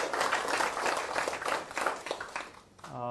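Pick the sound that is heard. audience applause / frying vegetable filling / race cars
audience applause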